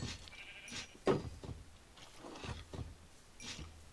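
Sheep in the Minecraft video game bleat in a few short, nasal calls spread across a few seconds, moderately loud with some background game noise and no talking.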